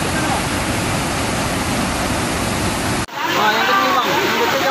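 Heavy floodwater from a flash flood at Gunung Pandan rushes in a loud, steady roar during ongoing rain, a dense broadband wash that never lets up.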